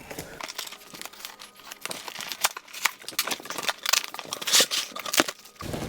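Scissors snip through crinkly plastic packaging around the parts of a Union & Scale Flex Fit Dexley mesh office chair, with close, irregular rustling and crackling bursts.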